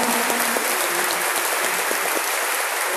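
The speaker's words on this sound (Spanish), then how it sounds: "Hacemos un gran aplauso al padre Gustavo." Dense, loud applause fills a church Mass for Father Gustavo Gutiérrez's 90th birthday, a congregation clapping steadily and continuously without pause.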